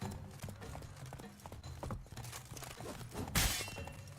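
A horse gallops in The Witcher 3: Wild Hunt on PS5 with a soft, continuous clip-clop of hooves during mounted combat, then a sharp shattering burst near the end.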